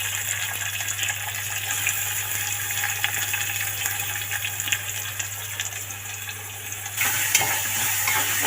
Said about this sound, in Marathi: असं कांदा परतून घ्यायचा।